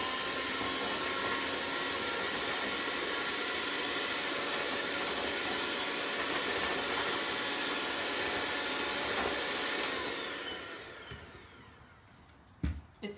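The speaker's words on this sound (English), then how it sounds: "I'm going to go ahead and mix in my whipping cream to this mixture right here" An electric mixer whips cream into a strawberry mixture for Strawberries Romanoff, a loud, steady whirring drone that holds for about ten seconds, then winds down and fades, followed by a few light clinks.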